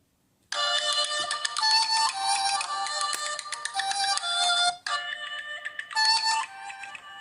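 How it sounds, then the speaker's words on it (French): Ringtone from an Ulefone S7 smartphone loudspeaker: a bright, loud melodic electronic tune of rapid repeating notes, playing continuously for about seven seconds with a brief dip near the end. "On va écouter un peu la sonnerie du téléphone."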